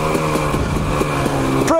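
A vehicle engine revs steadily as throttle is applied, a loud close droning tone with a faint rhythmic pulse that rises briefly at the end.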